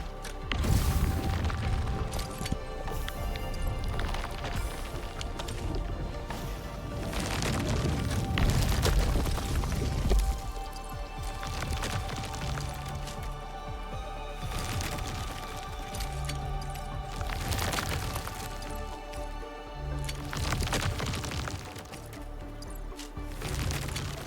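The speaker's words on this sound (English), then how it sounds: "I say it's time to shred some Originium ore to powder." Originium ore gets shredded to powder by a machine in Arknights Endfield, heavy grinding crunches and booming mechanical impacts rolling continuously for over twenty seconds, loud and dense with pulsing surges and no talking.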